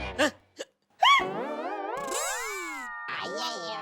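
An elderly man in a Hindi family sitcom has hiccups: a few short, sharp bursts, then a long, wavering voiced sound that rises and falls.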